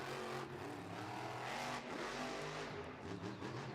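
El Toro Loco monster truck engine roaring in an indoor arena at Belmont Park, NY, loud and continuous with revving surges and a crowd-like wash behind it.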